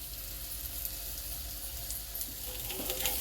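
Rice-flour-coated patties for ragda patis frying in oil on a griddle pan, a steady soft sizzle with faint crackle close by, growing slightly busier toward the end, no talk.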